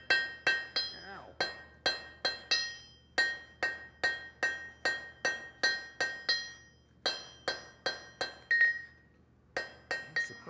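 A blacksmith's hammer strikes metal during a demonstration at the 2018 Rocky Mountain Smiths Conference: about twenty sharp, bright ringing blows, close and loud, landing in quick rhythmic runs with brief pauses between bursts.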